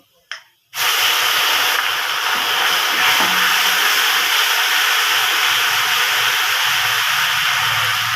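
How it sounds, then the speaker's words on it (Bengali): Ginger and green chili paste hitting hot oil with turmeric, a sudden loud sizzle that bursts in and holds as a strong, steady hiss close by. "একটু হলুদ দিয়ে আমি তারপরে আদাটা সঙ্গে সঙ্গে ঢেলে দেবো"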